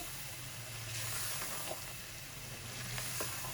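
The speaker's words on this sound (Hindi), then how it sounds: "दही के साथ 5 मिनट तक भुनाई करेंगे" Chicken and spinach qeema cooking with yogurt in a pan, a low continuous hiss and sizzle that stays faint and even, with a couple of small stirring ticks.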